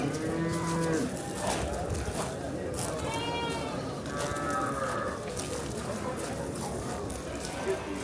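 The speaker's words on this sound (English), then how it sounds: "Trucks packed with cows." Cattle at an Oman market moo repeatedly from trucks packed with cows, several low drawn-out calls overlapping amid busy crowd chatter and background activity.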